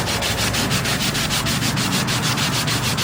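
60 grit sandpaper rubs steadily over a soft pine wooden bowl being restored, a loud, close, continuous rasp in fast regular back-and-forth strokes, no talk.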